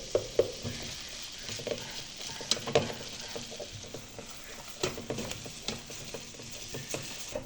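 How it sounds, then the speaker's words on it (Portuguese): Onion frying in butter in a pan, steady soft sizzle with repeated light stirring scrapes and taps throughout, close up and without talk. "Já fritamos a cebola, tá certo? Com a manteiga."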